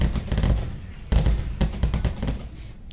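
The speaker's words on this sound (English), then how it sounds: "those fireworks are so loud I can't hear my game" Fireworks go off outside, a quick series of loud, muffled booms and thuds bunched close together, with a few stronger blasts standing out.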